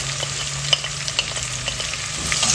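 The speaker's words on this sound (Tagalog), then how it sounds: "Then, gisa-gisa lang natin yan." Ginger, onion and garlic sautéing for goto, a close steady sizzle broken by brief scraping stirs of a utensil in the pan, moderately loud and without speech.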